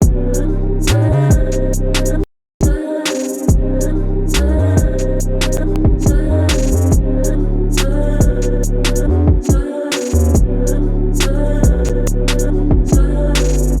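A full UK drill beat plays loudly: deep sliding bass, crisp rapid hi-hats and a looping melody, with a short silent break early on.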